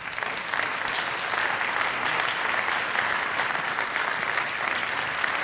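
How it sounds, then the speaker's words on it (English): A crowd at a district awards gathering applauds steadily and loudly from start to finish, dense clapping with no voices standing out. "Let's give them another round of applause for what they do."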